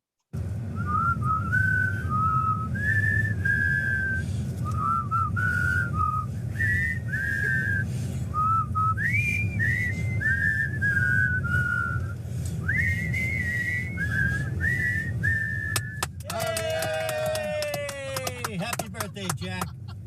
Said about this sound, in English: So here's a happy birthday whistle led by the CEO of Ohio Living.